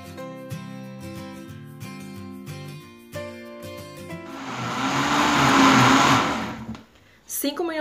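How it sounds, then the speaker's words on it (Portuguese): A blender whirs loudly for a few seconds, mixing a creamy corn mixture for chicken fricassee, after a stretch of music; it cuts off briefly before another burst of noise starts. "vamos tampar aqui o nosso liquidificador e vamos colocar para bater aqui essa mistura por 5 minutos até ficar bem homogêneo"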